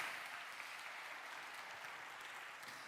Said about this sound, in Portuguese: Você pode aplaudir aí para agradecer ao Senhor?